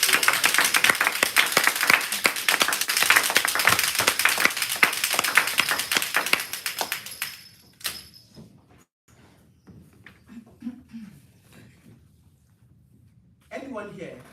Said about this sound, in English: With the resounding applause, let's welcome Toastmaster Alebio.